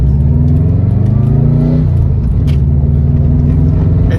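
A purple Subaru with about 265,000 miles idles loudly up close, its engine note rising briefly in a rev before settling back to a steady rumbling idle.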